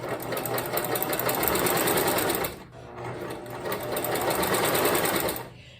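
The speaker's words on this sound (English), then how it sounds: "this is the quilting foot, the walking foot, and it helps the fabric to go through together and not shift as it goes under the presser foot" A sewing machine fitted with a walking foot quilting fabric for a baby quilt, a steady fast mechanical whirr in two long runs with a brief pause between, close and loud, no talk.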